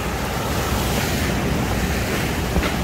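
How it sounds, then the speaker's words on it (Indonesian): Strong, fast-rushing flash flood water in Mecca roars as a continuous, loud, broadband wash close by, with constant turbulence and a wind-buffeted microphone, and no speech. "Airnya ini cukup kenceng ini"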